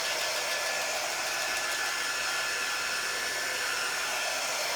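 A hair dryer blows steadily at close range to dry a craft transfer, a constant loud whooshing hiss with no pauses and no voices.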